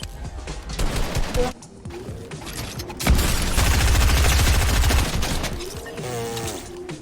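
Video game gunfire, with bursts of rapid shots and booming volleys that swell into a dense, loud fusillade in the middle, mixed with game sounds and brief voice.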